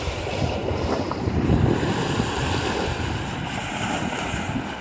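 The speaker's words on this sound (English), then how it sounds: "I'm at an undisclosed location on a beach in Bohol." Surf washes steadily onto a beach near Panglao in Bohol, Philippines, a continuous roar of waves mixed with wind buffeting the microphone, with no voices present.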